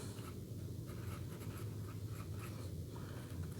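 Nib of an ebonite fountain pen fitted with a Jinhao nib scratching steadily across paper, a continuous close, soft scraping texture with small stroke-to-stroke variations and no voices.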